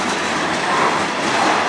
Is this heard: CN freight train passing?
yes